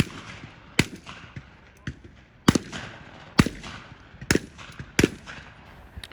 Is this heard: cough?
no